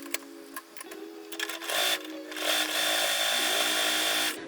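Sewing machine stitching a quarter-inch seam on a scrap quilt block, starting with a few short whirring bursts, then running in a steady, close, continuous hum to the end.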